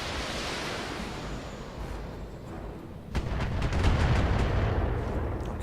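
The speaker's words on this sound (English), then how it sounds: "There's a whole bunch of missile shots." Rumbling volleys of missile fire from BattleTech mech combat, a dense roar that swells and thickens midway with a burst of overlapping impacts, loud and continuous.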